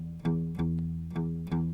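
An acoustic guitar plays a loping blues shuffle rhythm, notes struck in an uneven long-short pattern with sustained low strings ringing.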